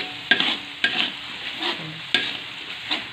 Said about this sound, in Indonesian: Sekarang saya lagi tumis bumbu yang tadi saya ulek untuk mie goreng ya